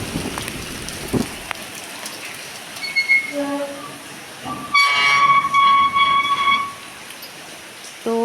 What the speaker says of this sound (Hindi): ये देखें कि इतनी तेज़ बारिश जो है ना वो हो रही थी